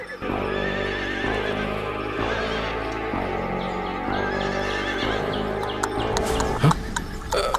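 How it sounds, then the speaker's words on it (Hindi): A horse whinnies and trots off carrying a merchant in an animated Hindi folk tale, the neigh rising over a steady bed of background music with hoofbeats clopping near the end. "व्यापारी उठकर घोड़े पर सवार होकर चला जाता है"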